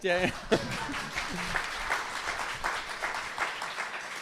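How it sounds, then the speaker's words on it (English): Audience at a Christian panel discussion clapping for the panelists, a steady mid-level patter of many hands over several seconds, with a voice speaking briefly at the start. "You can clap, yeah."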